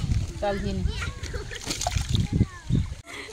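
Rice being rinsed by hand in a pot of water during an outdoor picnic cook-out, with close sloshing and splashing in short bursts while people talk over it.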